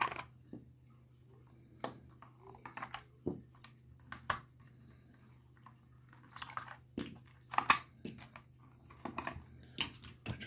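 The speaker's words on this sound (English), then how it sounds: "make sure that any games cartridges are taken out, and obviously the batteries as well." Scattered small plastic clicks and taps as a game cartridge and batteries are removed from an original Nintendo Game Boy, quiet and irregular over a low steady hum.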